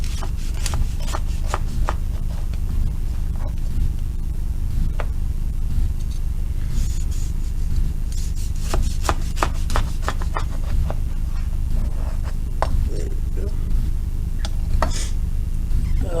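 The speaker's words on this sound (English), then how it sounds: "Let's cut off a slice" A knife cuts through a loaf of walnut zucchini bread with repeated crisp, short rasping strokes in uneven bursts, close by over a steady low background hum, with no talking.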